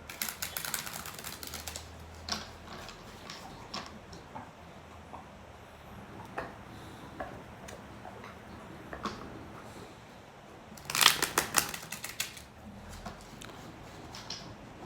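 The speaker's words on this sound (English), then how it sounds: "So the shuffle feels good and clean, even though I'm shuffling this around the tripod" Soft riffling and flicking of tarot cards being shuffled in a quiet room, with a denser burst of sharp snapping near the end; no talking.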